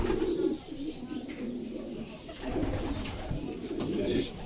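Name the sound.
pigeons cooing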